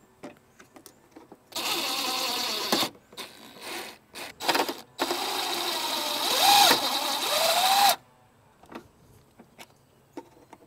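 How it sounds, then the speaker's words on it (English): A cordless driver sinks self-tapping screws into the mount of a relocated washer fluid tank on a 4th-gen 4Runner, giving several loud whirring bursts of varying length, one long and rising in pitch, with quiet pauses between. "I'm gonna go ahead and put in the self-tapping screws."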